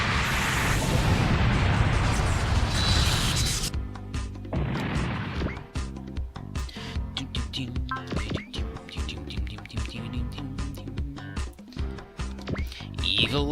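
Buster Cannon attack from Super Robot Wars Z3 erupts in heavy blasts and crashing impacts, a loud sustained burst followed by a rapid string of thuds and booms, with a voice speaking over parts of it.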